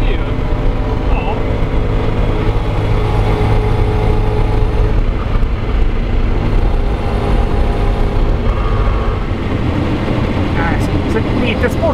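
A car cruises at 90 km/h, its cabin filled with a loud, steady low rumble of engine, tyre and road noise that stays even throughout, with no clear voices over it.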